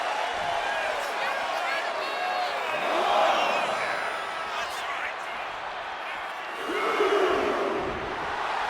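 A WWE 2K25 wrestling video game crowd roars steadily through the match, swelling louder twice, with a commentator talking over the cheering.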